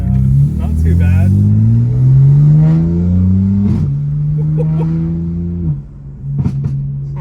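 A tuned 2025 BMW M4 Competition engine drones loud and near while driving and turning, its pitch climbing through smooth upshifts in a deep, steady growl, then dropping off briefly near the end before picking up again.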